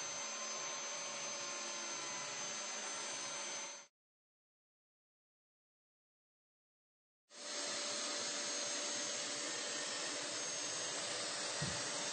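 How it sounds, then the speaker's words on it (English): Dyson DC23 Turbinehead canister vacuum running with its turbine brush head on pet hair, a loud steady whirring drone that cuts off for a few seconds and then resumes at the same level. "We also tested the Turbinehead brush on pet hair, and after a few passes,"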